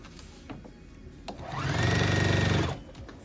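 A sewing machine stitches quilt block pieces in one close, steady whirring run of about a second, preceded by a few soft handling clicks.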